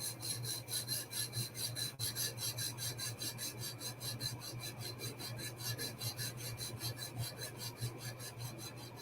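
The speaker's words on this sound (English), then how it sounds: "We're just getting some sharpening done." A blade is worked back and forth across a sharpening stone in steady, repeated rasping strokes, close and fairly loud, with a constant low hum underneath and no voices.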